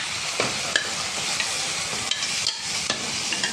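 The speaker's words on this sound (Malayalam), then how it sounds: "ഇനി നമുക്ക് ഇതിൻ്റെ കൂടെ ബീഫ് വേവിച്ച് വെച്ച് നമുക്ക് ഇട്ട് കൊടുക്കാം." Cooked beef tipped into sautéed masala in a pan for a beef-on-the-bone curry, giving a dense, continuous loud sizzle with scattered spoon scrapes and clicks, close up and without speech.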